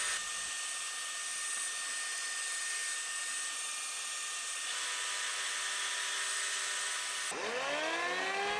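A saw with an upper blade guide cuts an oddly shaped piece of scrap wood, a loud steady motor whine with high ringing tones that then spins down in falling pitch near the end.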